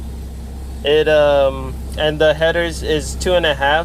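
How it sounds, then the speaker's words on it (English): A Nissan 240SX's KA24DE engine idles roughly with an exhaust leak, a low steady rumble running throughout beneath a man's close, dominant talking. "And you probably hear that bad idle."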